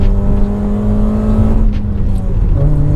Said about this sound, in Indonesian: kita buka gas ya Tuh. dia udah kayak knalpot racing